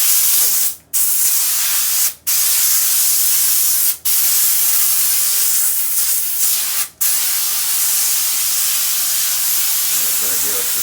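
Steady, loud spray hissing from a spray paint nozzle, broken by four brief pauses as the flow cuts off and restarts.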